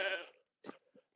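Goats kept in woodland bleat close by, one strong bleat followed by two shorter, fainter calls with brief silences between them.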